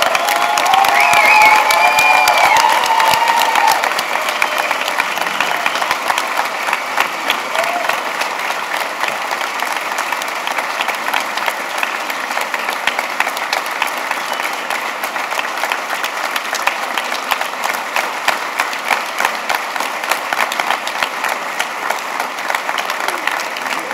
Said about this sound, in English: Please join me in an applause.